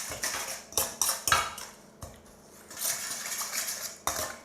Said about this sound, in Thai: คราวนี้เราก็คนจนกว่าน้ำตาลจะละลายนะครับ